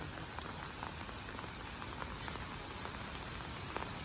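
Heavy monsoon rain pours down in the hills of Kannur, Kerala, with water falling loudly and continuously, a dense steady hiss and patter close by, with no voices.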